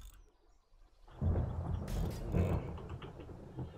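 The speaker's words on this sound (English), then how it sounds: "Thunder." Deep rolling thunder in the survival video game 7 Days to Die, swelling in suddenly after a quiet start and rumbling steadily at close, heavy loudness with a second surge midway before easing slightly.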